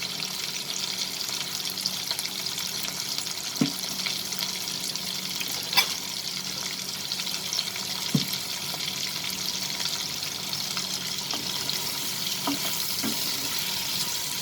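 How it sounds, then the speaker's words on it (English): Prawns fry in a pan over high flame with a steady hiss and sizzle, and now and then a soft knock as they are turned and tossed, even and close throughout with no speech. "And fry it for 2 minutes, turning and tossing it, the prawns properly."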